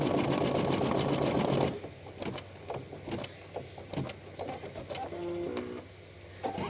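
An embroidery machine runs in a loud steady buzz for about two seconds, then stops, leaving quieter clicks and mechanical taps with a short whir near the end.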